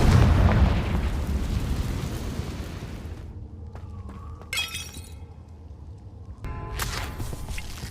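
A Confringo fire spell from the Hogwarts Legacy video game bursts with a loud, crackling blast in the first three seconds, then fades into quieter shattering debris and a couple of sharp sparkling cracks.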